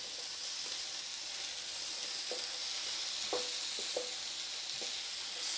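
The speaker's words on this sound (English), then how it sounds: "let's mix in the beans" Beans go into a pan of cooking chicken for a green chili chicken enchilada with egg omelet, a steady sizzle running throughout with a few soft scraping stirs and clinks.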